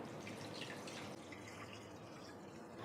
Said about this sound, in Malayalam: ഇനി ഇതിലോട്ട് വെള്ളം ഒഴിച്ചു കൊടുക്കാം